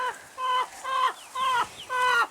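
Fancy chickens clucking close by in a small backyard menagerie, four drawn-out, throaty calls in a steady rhythm with short pauses between them, loud and clear.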